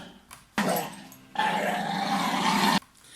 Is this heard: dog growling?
yes